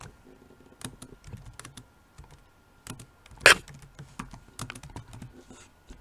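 Keys clatter on a computer keyboard in irregular bursts and single taps, with one sharper loud clack midway, close and alone with no talking.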